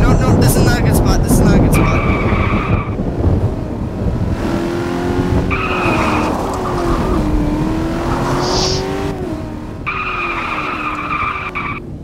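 A car in Garry's Mod drifts and skids, repeated tire squeals rising over a droning engine that revs and shifts pitch, with someone talking over the game sounds.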